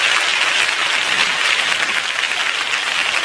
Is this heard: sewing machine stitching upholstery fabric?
no